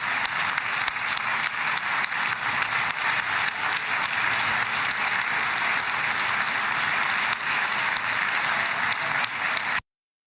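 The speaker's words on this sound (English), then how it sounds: "Round of applause for the Congress over there" An audience applauding a congressional delegation at a political speech, steady, loud, sustained clapping from a large crowd that ends abruptly.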